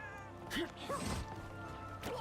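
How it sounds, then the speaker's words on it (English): A cat meows in a Marvel Rivals-style team game, a few short rising and falling mews mixed with game thumps and impacts, fairly faint under the busy in-game noise. "Why did I just hear a cat?"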